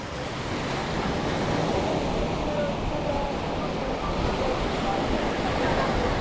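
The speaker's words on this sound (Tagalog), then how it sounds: "Napakahangin, napakalakas ng hangin dito." Strong wind buffets the microphone in a steady roaring rush at San Joaquin, Iloilo, Philippines, with surf-like noise mixed in, loud and continuous.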